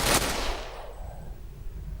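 A single sharp gunshot in the video game Ghost Recon Online rings out and trails off in a long, fading reverberant tail.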